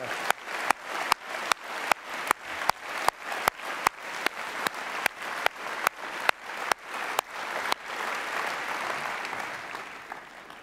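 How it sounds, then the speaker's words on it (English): Conference hall audience applauding Special Olympics athletes at a Liberal Democrat party conference: a sustained round of dense clapping from a large crowd that goes on for about ten seconds, close and loud. "can everybody give a fantastic round of applause to the athletes there?"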